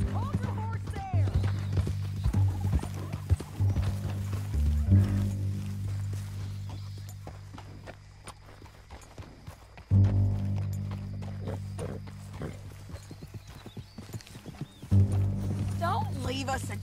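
Horses trot and gallop with rhythmic hoof clip-clop in the Red Dead Redemption 2 epilogue, under near-constant shouted character dialogue, with a few heavy thumps and hoof bursts standing out between lines.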